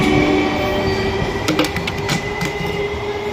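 A train pulls out of a station on the Krishnagar to Bhabta line, a steady, close rumble of wheels and carriages with a few sharper metallic clanks in the middle, continuous throughout.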